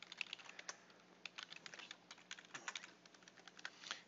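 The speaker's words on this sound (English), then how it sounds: "and you'll type that in" Quick, irregular keystrokes on a computer keyboard as a username and password are typed into a login page; light, close clicks come in uneven bursts with short pauses and no talking.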